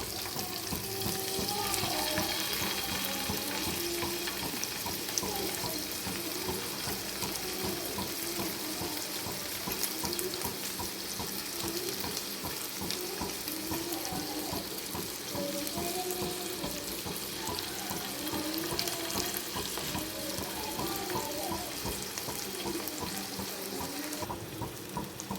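Steady sizzling of fish frying in oil, a continuous crackling hiss at moderate volume throughout with faint clinks in the background.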